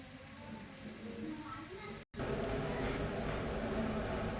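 Tapioca adai frying on a pan in oil and ghee after being flipped gives a steady, close crackling sizzle that cuts out for a moment midway, with possible faint voices underneath.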